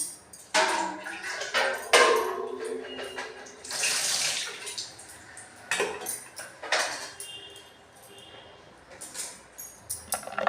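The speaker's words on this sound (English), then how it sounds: "First you have to wash it, then you have to cut it." Chilies are rinsed under a running kitchen tap, a steady splashing water flow with intermittent louder gushes and faint clinks of dishes, close by; no talk in the stretch.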